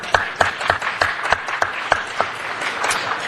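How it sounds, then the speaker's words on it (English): Applause for Mr. Pacheco in a city council chamber, steady moderate clapping from a small group with a few louder individual claps standing out, lasting a few seconds. "Round of applause for Mr."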